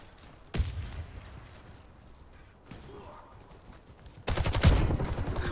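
Video game gunshots ring out: a sharp single shot near the start, a quieter burst mid-way, then a loud rapid volley at the end, all over low background noise.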